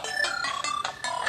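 A smartphone notification chime rings out during an app update, a quick series of bright electronic tones repeating about four times in just over a second, clear and moderately loud with no talking.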